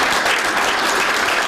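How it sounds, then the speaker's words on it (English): Loud, dense applause at an awards ceremony honoring four Dayton firefighters named Firefighter of the Year, a steady wash of many hands clapping close by with no voices. "4 Dayton firefighters receive a round of applause"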